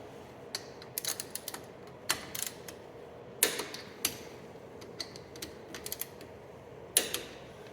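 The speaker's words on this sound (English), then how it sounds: "So now I can torque the bearing cap bolts down." A torque wrench tightens the bearing cap bolts on a Dana 35 axle in a 2003 Jeep TJ, set to 57 foot-pounds. Sparse, crisp metallic ticks and clicks come in irregular bursts against a quiet workshop background.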